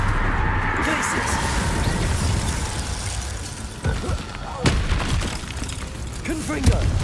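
An ice spell cast in Hogwarts Legacy, heard as a dense stretch of magical combat with a sharp burst and crackling impacts over a steady low rumble, with speech around it.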